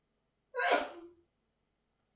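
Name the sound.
sneeze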